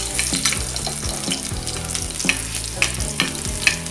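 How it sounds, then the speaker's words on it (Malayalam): Ginger frying in coconut oil hisses and crackles steadily up close, with a few sharp pops and clicks from stirring scattered through the sizzle. "ഇപ്പോൾ നമ്മൾ ഫസ്റ്റ് ഇഞ്ചി ഇഞ്ചി ഇതിലിട്ടിട്ട് നന്നായിട്ട് ഫ്രൈ ചെയ്യണം"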